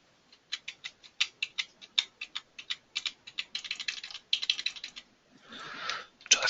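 Rapid clicking keystrokes on a computer keyboard, a fast irregular run of sharp taps close to the microphone, with no talking.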